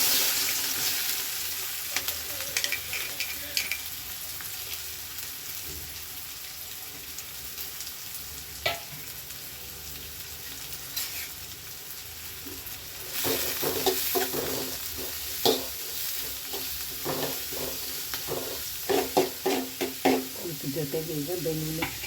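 Oil heating in a pan for egg curry, a quiet steady sizzle with occasional utensil clinks, growing louder and busier midway with repeated stirring scrapes and knocks, close and without talk.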